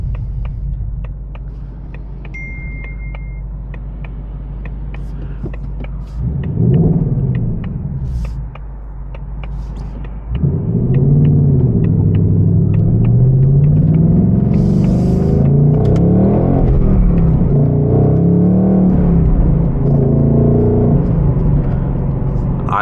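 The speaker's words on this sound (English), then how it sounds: "The exhausts on this thing are crazy. Stock from factory, and it sounds as loud as ridiculous." A 2024 Ford Mustang Dark Horse with a six-speed manual and loud stock exhaust: a low rumble swells briefly, then the engine climbs into a loud, sustained droning roar with rising and falling revs.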